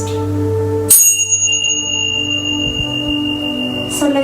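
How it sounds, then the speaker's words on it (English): A bell sounds in a quiet yoga class to mark the move to a new posture: one clear loud strike followed by a long shimmering ring that slowly fades, with no talk. "I will sound the bell for us to move and transition from one posture to the next."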